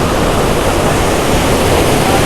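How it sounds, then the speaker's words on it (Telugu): Water gushing from a canal pipe into a large village pond, a loud, constant broadband roar of rushing flow with no pauses. "చూడరు వాటర్ వస్తున్నాయి"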